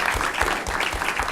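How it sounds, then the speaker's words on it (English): A crowd at a board meeting claps steadily, a dense patter of many hands throughout, fairly close and even in loudness. "So let's give them an applause as well."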